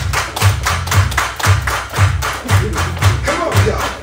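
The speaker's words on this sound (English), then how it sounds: "Everybody clap your hands." Rhythmic group hand clapping at a steady beat, about two claps per second, each clap landing with a low thumping punch alongside broadband slaps, loud and close with music or voices faintly underneath.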